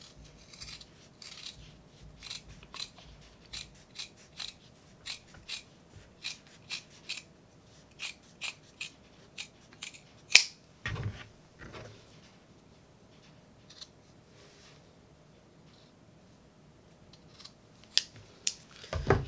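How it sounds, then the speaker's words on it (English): Scissors snip the ends off fabric for a face mask, a series of crisp close cuts in an uneven rhythm, with a louder handling clatter midway and a few more snips near the end. "Let me just cut off the ends and trim down this piece here."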